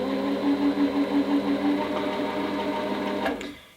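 A Singer sewing machine winds a bobbin with a steady, close mechanical whir that holds an even pitch for about three seconds and then winds down and stops.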